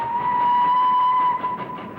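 Train on the Mount Lyell railway line sounding a sustained steady whistle or horn tone over a low rolling rumble, fading slightly toward the end.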